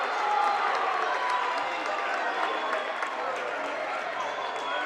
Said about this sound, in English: Iola's crowd is so riled up in this one.